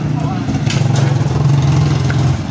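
Engine of a water pump running nearby, a loud steady low hum with a rhythmic throb, heard under people talking.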